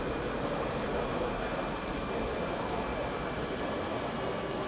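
A small gas turbine jet engine spools up toward 15,000 RPM, giving a steady, loud broadband roar with a high sustained whine held throughout.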